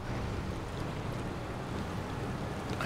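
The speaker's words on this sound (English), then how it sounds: "Also, the water is fairly fast moving." Fast-moving river water in the game SnowRunner, a steady, broad rushing wash with no pause, fairly loud and close.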